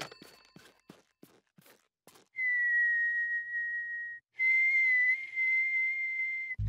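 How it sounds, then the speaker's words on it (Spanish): Sustained high whistled tones, two long held notes with a short break, after a few soft footstep-like taps. "Estoy ocupada practicando para el campeonato de coro de silbantes."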